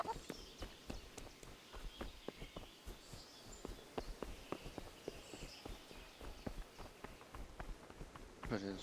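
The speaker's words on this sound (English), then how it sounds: "I gotta get our horse." Steady clip-clop of horse hooves moving at a quick pace, close and continuous, with a low background rumble, from the video game Kingdom Come: Deliverance.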